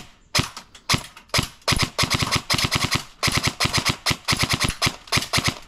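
An airsoft gun fired semi-automatic: crisp, sharp snapping shots in quick clusters of two to four, separated by brief pauses, loud and close with nothing else heard.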